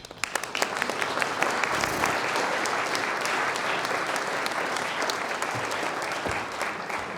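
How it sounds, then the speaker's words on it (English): An audience at a parking and city planning keynote breaks into sustained applause welcoming the speaker, a dense steady clapping that fills the whole stretch without talk. "Please help me welcome Dr. Donald Shoup."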